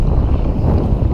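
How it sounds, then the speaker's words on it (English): Strong wind buffets a microphone outdoors on the water during a snook fishing trip, a dense, low roaring rush for just over a second with no voices. "It's real windy out here."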